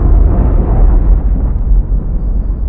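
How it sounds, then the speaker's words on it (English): Weapon impacts exploding against the Soviet ship Kiev in the naval submarine game Cold Waters, a loud, sustained rumbling blast with deep low-end roar that stays dense and heavy throughout, no voices. "That was 3 impacts on Kiev."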